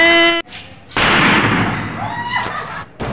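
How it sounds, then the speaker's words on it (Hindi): Diwali firecrackers burst with a sharp loud bang, followed by a crackling, hissing decay and smaller pops, after a brief tonal sound at the start. "ये देखो मछली तो पटाखे फोड़े"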